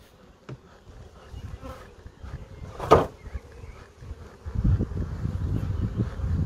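Honey bees at an opened beehive: a faint, thin buzzing of insects close by, with one louder bee passing near the middle and soft handling noises and rumble growing toward the end.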